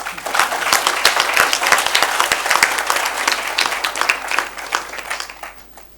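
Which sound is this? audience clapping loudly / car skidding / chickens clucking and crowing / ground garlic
audience clapping loudly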